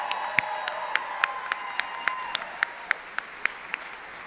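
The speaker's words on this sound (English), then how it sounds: "One more time, round of applause." Steady crowd applause fills the space, with one person's sharp, regular claps standing out near the front in a brisk, even rhythm.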